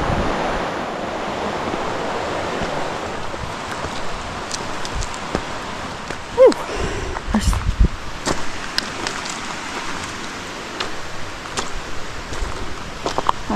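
A waterfall at Stone Mountain makes a steady, broad rush of falling water with gusty wind noise, while occasional knocks and faint voices come through close by.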